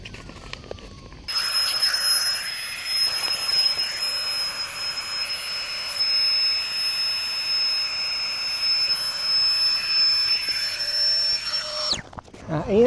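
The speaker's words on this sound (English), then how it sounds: "I'm gonna break out the inflator and get this thing aired up" Electric air inflator filling a mattress while camping on a rooftop, a loud, steady high-pitched whine and rushing hum that starts abruptly, runs for about ten seconds, then cuts off.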